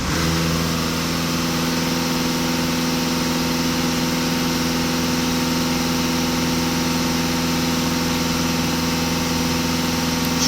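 A Volkswagen Passat B8 engine idles steadily and evenly for the whole stretch, a constant close mechanical hum with a faint tonal drone and no speech.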